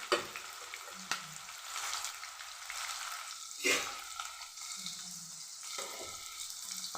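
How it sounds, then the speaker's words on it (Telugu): Chopped onions fry in oil with a dried red chilli in a pan for a Telugu aloo tomato curry, giving a quiet, steady sizzle with occasional stirring scrapes and clinks close by. "ఉల్లిపాయ వేసుకొని ఫ్రై చేసుకోవాలి. ఉల్లిపాయలు ఇలా ఫ్రై చేసుకోవాలి."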